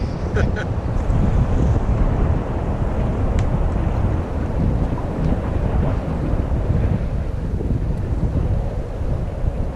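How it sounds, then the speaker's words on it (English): Steady wind roars across the microphone on Gull Lake while walleye fishing from a boat, a dense, continuous rumble with faint water slaps and brief knocks. "It's windy."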